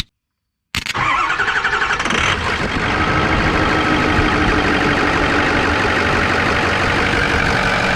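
A 2006 Ford F-550 diesel truck engine starting: after a moment of silence it cranks briefly, fires, and settles into a loud, steady, clattering idle close by.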